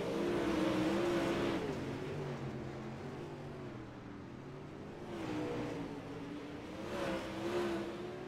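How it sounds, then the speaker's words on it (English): Super late model race car number 77 on a qualifying lap at Limaland, its engine note rising and falling as it circles the track, heard from a distance with no voices. "We'll see what Robert Fletcher can do in car number 77."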